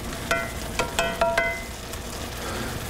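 Sandhill crane meat sizzles in a pan with steak sauce and beer, a steady close frying hiss broken by a few sharp spatters and stirring knocks.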